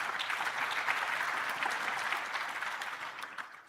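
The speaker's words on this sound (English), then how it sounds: "Give them a round of applause" Warm, sustained applause from a conference audience greets a panel of agricultural economists at an investment conference in Limpopo, steady for several seconds before thinning out near the end.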